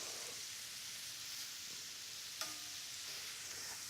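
Shrimp sizzling steadily in a hot pan while being turned for tacos, a soft continuous fry with one brief clink near the middle and no talking.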